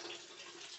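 Hot water running from a household tap on well water, filling an ice bath, a soft steady rush of flow, faint and brief.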